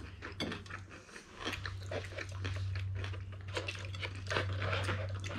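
Close, crunchy chewing and biting of a spicy, crispy KFC fried chicken wing repeats in uneven bursts over a steady low hum, with no talking.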